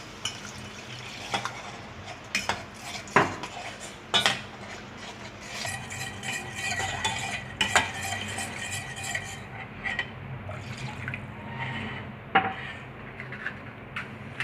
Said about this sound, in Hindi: अब इसके अंदर हम ये थोड़ा थोड़ा करके हम इसके अंदर दूध ऐड करते हैं